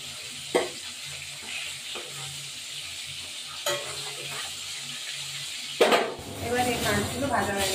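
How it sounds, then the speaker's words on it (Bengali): Fish frying in a pan, a steady low sizzle broken by a few sharp clatters as the pieces are turned, with louder handling and scraping near the end. "এবার মাছটাকে এদিক ওদিক ভাজবো।"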